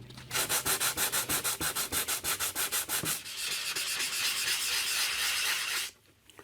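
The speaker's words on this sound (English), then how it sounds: "I'll sand it off, see what happens this time." Sandpaper rubbing down dried super glue on the Bakelite case of a 1947 Stromberg-Carlson 4A17 radio: a fast run of rhythmic back-and-forth strokes, then a steady continuous scrub that stops abruptly, close and loud with no voices.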